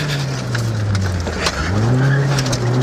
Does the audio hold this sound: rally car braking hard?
yes